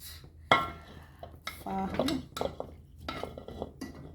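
A fork scrapes and clinks against a pot while stirring Jamaican rice and peas, with irregular close metallic taps and scraping strokes and no talk.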